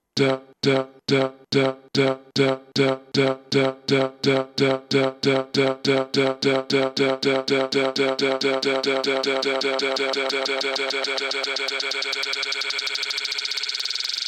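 A chopped, rhythmic sample loop repeats steadily while a 24 dB high-pass filter in Cubase Pro 9 sweeps upward, thinning out the low end until only a bright, buzzy high band remains.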